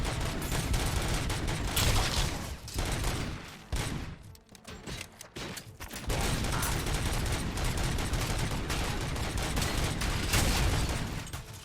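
Dense gunfire from robots in Robocop Rogue City, sustained rapid bursts of automatic shots, loud and close, with a short lull in the middle before the firing resumes steadily.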